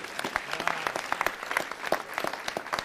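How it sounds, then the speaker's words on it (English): Applause at a city council meeting: scattered, distinct hand claps from a small audience, fairly close and moderately loud for about three seconds, with no one talking. "Let's give him a round of applause."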